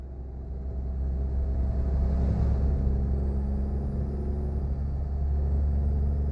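A truck driven in the simulation game American Truck Simulator on a road heading west through Oregon, heard as a steady, loud low engine rumble and road drone that runs unbroken and alone throughout.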